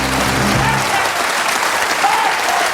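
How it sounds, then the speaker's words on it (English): A television studio audience on a football talk show applauds a first-time guest, loud dense clapping throughout, with a voice briefly at the very start. "just a round of applause"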